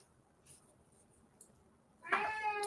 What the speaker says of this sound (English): my cat is sitting here talking to me